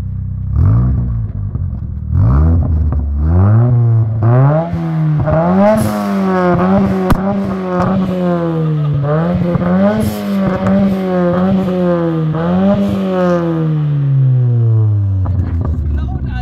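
Nissan 200SX engine revving hard, loud and close, with repeated rising and falling blips of the throttle over about sixteen seconds, a brief lower rumble at the start and end.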